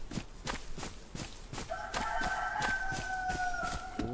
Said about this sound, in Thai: ไก่มันขันดังมากอ่ะไก่มันขันดังสุดๆเลยนะครับ